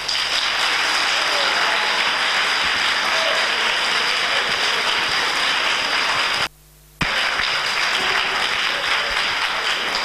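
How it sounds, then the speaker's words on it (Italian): Sustained audience applause fills a room welcoming a professor to a book presentation, steady dense clapping with a brief cut partway through and no voice over it. "Accogliamo il professore Talarico con un bel applauso."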